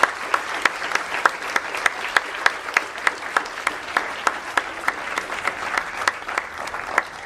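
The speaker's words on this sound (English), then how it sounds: "And let's just give one more round of applause." An audience at a high school humanities symposium panel claps together, a dense, steady round of applause filling the room for several seconds without a break.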